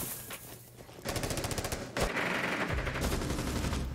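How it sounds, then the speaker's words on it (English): Rapid automatic gunfire bursts in Rainbow Six Siege during a competitive league match, with dense clattering volleys that pause briefly and then resume, loud and close with no talk. "Shots coming out, baby."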